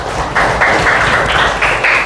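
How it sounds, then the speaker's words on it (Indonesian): Children clapping together in a classroom, a loud, dense round of applause lasting about two seconds with rhythmic surges, no voices over it. "Kita kasih tepuk tangan dulu untuk kita semuanya"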